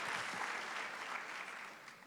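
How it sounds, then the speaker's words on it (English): Applause from an audience after a short hip hop film screening, a continuous dense clapping that stays fairly even and loud throughout before easing slightly at the end. "Let's get another round of applause for that."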